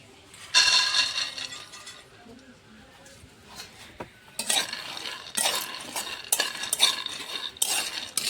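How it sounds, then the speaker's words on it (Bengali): Peanuts dry-roast in an empty wok, rattling and scraping in sharp bursts as a metal spoon stirs them, with a voice speaking intermittently in the background. "বাদামগুলো ভেজে নিচ্ছি"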